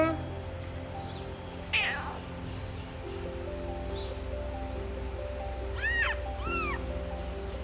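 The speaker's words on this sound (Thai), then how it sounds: "เสียงแล้วน่ารักมากเลยเสียงแมวน้อย" Several high, thin meows from a newborn kitten, a squeak early on and a pair of short cries later, over a steady low hum and soft rustling.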